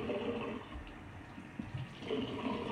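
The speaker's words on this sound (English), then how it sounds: "Get my water warm because I like warm water on my face" Warm water runs steadily from a tap in a bathroom sink, a continuous close splashing hiss that swells slightly toward the end, with no voices.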